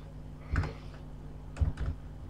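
Computer keyboard typing while entering text in a teaching program, two short clusters of soft, close keystrokes over a quiet background hum.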